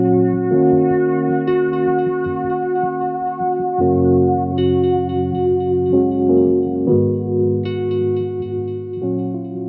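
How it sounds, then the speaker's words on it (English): A gritty synthesizer with distortion placed before the filter plays a sequence of held chords and notes, buzzy and saturated, shifting pitch every second or two with no voices. "adding a distortion before the filter just to give it more of that goodness"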